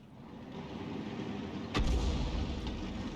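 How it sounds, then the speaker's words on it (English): A tank gun round fired from an M53/M55 in a World of Tanks-style game, a single heavy boom with a deep rumbling tail rising over low background noise, fairly faint and distant. "That was a round from the M53, M55. Hit the front plate."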